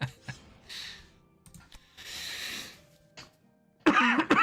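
Several separate coughs and throat-clearing sounds come from one person close to the microphone, spaced by short quiet gaps, with a louder, harsher burst near the end.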